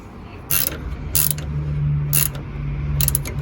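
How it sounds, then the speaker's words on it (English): Wrench ratcheting on a radiator bolt of a Ford F-series Super Duty truck, four short clicking bursts over a steady low hum, close by. "After that, tighten it with your wrench."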